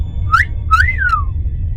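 A cartoon character whistles at an air hostess: two rising-falling wolf-whistle notes, crisp and close, over a faint low background hum.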